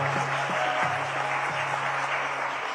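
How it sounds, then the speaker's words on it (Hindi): An audience at a live News18 India Utsav stage event applauds loudly and steadily for the whole stretch, a dense, continuous wash of clapping over a faint low hum. "मैं चाहता हूं जरा जोरदार तालियां बजा दीजिए"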